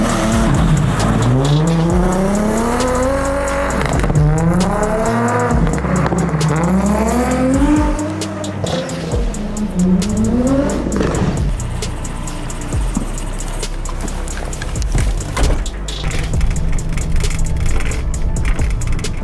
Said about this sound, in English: We got the truck going. Let's go.